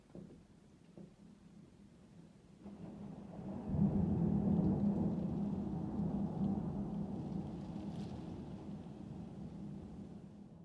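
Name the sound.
thunderstorm with loud thunder claps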